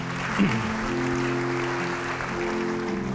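Steady applause from a church congregation fills the clip at an even level, with a faint tone or voice underneath.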